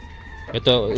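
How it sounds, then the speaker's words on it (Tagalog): Hens and a rooster in a small backyard breeding pen cluck briefly, a short rising call standing out near and clear over faint background noise. "5 hens saka isang rooster."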